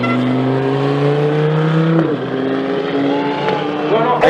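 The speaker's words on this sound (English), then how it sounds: "Jordan Martin going to try to be the first Lambo in the 6-second zone on the quarter mile" A high-revving Lamborghini engine drones loudly at a steady pitch at a drag strip, then drops and climbs again as it launches hard down the quarter mile, with a voice faintly underneath.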